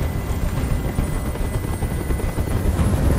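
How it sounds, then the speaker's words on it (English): A helicopter hovers nearby in the video game Detroit: Become Human, its dense, continuous rotor chop and engine roar holding steady and loud throughout with no voices over it. "Tell that helicopter to get out of here."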